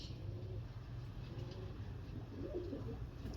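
Pigeons cooing in low, soft murmurs under steady background noise, with a slightly louder coo rising near the end.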